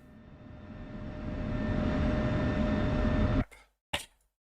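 An F-16C jet engine taxiing in a flight simulator game hums steadily and builds to a strong roar with a thin high whine, then cuts off abruptly, followed by a brief loud burst and silence.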